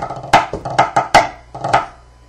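Snare drum playing a setting of The Smith's a Gallant Fireman, with sharp, close strokes and short rolls falling in an uneven rhythmic pattern, heard alone.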